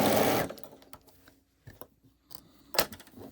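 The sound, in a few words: sewing machine stitching a quilt block seam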